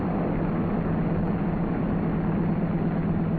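The right radial engine of a C-47 Skytrain runs up on the ground, a loud, steady, droning roar with a low throbbing hum that holds constant from start to finish, without any talking over it.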